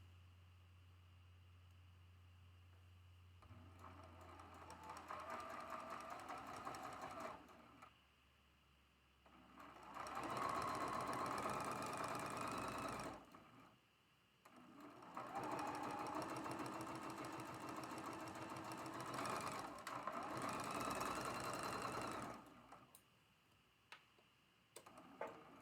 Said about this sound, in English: Get that centered and sew that seam.